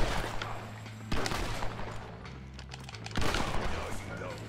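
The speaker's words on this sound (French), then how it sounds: "j'ai tiré dans les deux hanches, là" Gunfire in Red Dead Redemption, several sharp shots in bursts, the loudest near the start, around one second and past three seconds, over a low steady game hum, with people talking lightly in the background.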